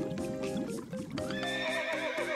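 A horse whinnies loudly and close, a long wavering neigh with a second call near the end, while hooves clip-clop faintly underneath; no one speaks.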